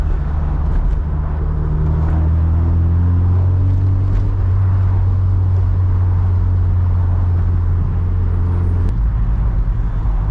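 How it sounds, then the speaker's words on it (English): A Toyota MR2 Turbo engine drones steadily while driving slowly in traffic with the roof off, its low rumble rising and falling in pitch as the revs change, loud and close, with no voices. "An MR2 that's semi-turboing, boosting right"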